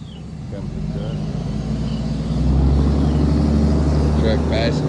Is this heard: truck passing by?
yes